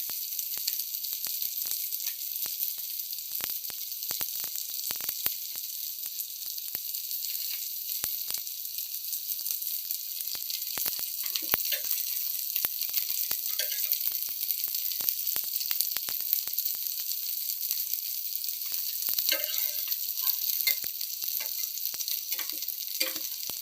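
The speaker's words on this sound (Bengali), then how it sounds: "আমার চিকেনের পিসগুলি কিন্তু প্রায় ভাজা হয়ে এসেছে। আমি এটাকে আর একটুখানি ভেজে তুলে নেব।" Chicken pieces fry in a pan with butter garlic seasoning, giving a steady, close hiss and sizzle. Scattered pops and crackles sharpen toward the end, and no one speaks.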